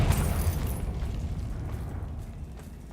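A Confringo fire spell blast in Hogwarts Legacy, a loud booming burst up front with a crackling high flare, then a rumbling low roar that slowly decays, with no speech.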